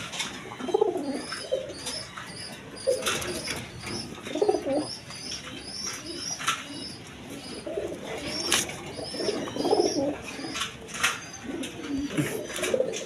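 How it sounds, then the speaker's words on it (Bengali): Big Raj Golla pigeons coo in repeated soft, low throaty phrases, close by, with light chirps and faint background noise running throughout and no speech. "একদম বিগ সাইজের কবুতর।"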